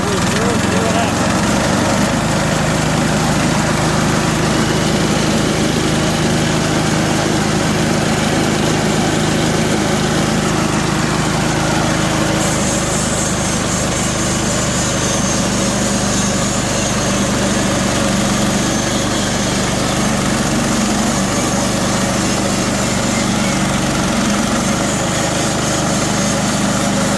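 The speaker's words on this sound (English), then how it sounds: "That blade going through there gets pretty good torque on it" Harbor Freight gas-powered saw cutting through a log, a loud, steady high-pitched engine drone with buzzing vibration that shifts slightly midway, with voices heard briefly.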